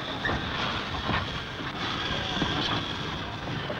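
Railway goods trucks being shunted in a marshalling yard produce a steady, broad rumble with faint rolling clatter, continuous and moderately close throughout.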